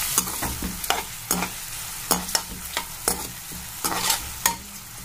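A ginger garlic paste is stirred in a hot frying pan, with a spoon scraping and clacking against the pan in irregular strokes over a steady, close sizzle.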